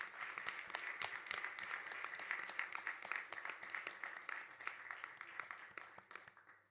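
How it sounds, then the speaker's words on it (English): Worshippers at a weekly bhajan gathering at a Sai centre applaud children who performed, a continuous round of clapping that holds steady and slowly tapers off toward the end. "Please give them a round of applause."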